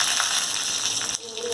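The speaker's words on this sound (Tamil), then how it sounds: "கடுகு போட்டு தாளிச்சிடுறேன்." Mustard seeds fry in a tablespoon of hot oil while tempering green gram sundal, giving a steady, dense sizzle with fine crackles close by.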